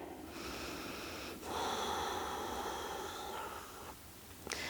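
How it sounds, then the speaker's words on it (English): Slow, steady breathing held during a yoga hip stretch, with long even airy exhalations close by and a brief sharper intake near the end. "A few more breaths here."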